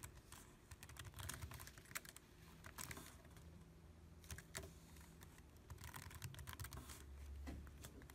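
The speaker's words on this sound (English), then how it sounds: "You gotta press shift on your keyboard, and then 2. But anyway, you have to type that in again." Steady typing on a computer keyboard, close and continuous, with quick irregular key clicks and occasional louder strokes over faint room hum.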